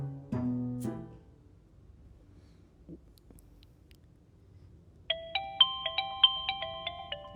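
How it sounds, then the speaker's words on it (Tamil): A mobile phone ringtone for an incoming call plays a bright repeating electronic melody in a home, preceded by a brief voice and a soft knock. "ஜனனி ஃபோன் வருது, யாருன்னு பாரு"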